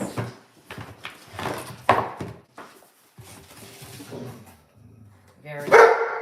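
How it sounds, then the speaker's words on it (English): Dogs barking indoors in a home, a few sharp barks and yips scattered among people talking, with a louder burst of barking near the end. "I don't know why they were barking."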